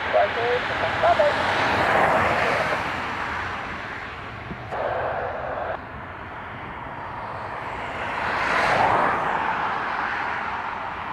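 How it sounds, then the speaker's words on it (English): An ATR turboprop airliner departing Dublin Airport for Edinburgh hums and drones at moderate distance, rising and falling in two broad swells, with a person talking over the engine noise. "ATR to Edinburgh."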